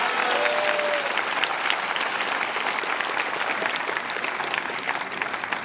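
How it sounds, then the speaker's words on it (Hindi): A church congregation claps to glorify the Lord, a dense, loud, continuous wash of applause from a large crowd that holds steady for several seconds. "ताली बजा के प्रभु को महिमा दीजिए।"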